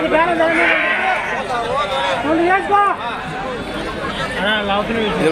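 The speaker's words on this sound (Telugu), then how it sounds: "పెద్ద సైజు పొట్టేలు రాయలసీమ పొట్టేలు అంటే ఇట్లు బాగానే ఉంటాయి, మంచి ఫేమస్" Rayalaseema rams bleating at a livestock sale, several loud, wavering calls overlapping one another up close, with a crowd of people talking and babbling throughout.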